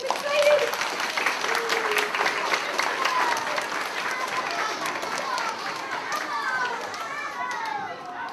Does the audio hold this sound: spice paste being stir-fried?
no